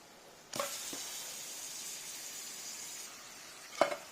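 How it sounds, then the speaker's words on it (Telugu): Cut fish pieces for a Godavari-style fish stew drop into hot oil in a pan, setting off a broad hissing sizzle that holds steady, with a sharper crackle near the end. "ఇలా 1 మినిట్ ఫ్రై చేసిన తర్వాత కట్ చేసి పెట్టిన చేపల ముక్కలు వేసుకోవాలి"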